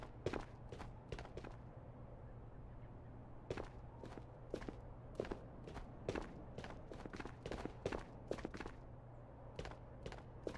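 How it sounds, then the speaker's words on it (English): Footsteps in the video game Ghosts Of Tabor come as a steady series of crisp, fairly close steps. They pause briefly near the start and then continue for about ten seconds over a low background hum. "I thought I heard footsteps over here."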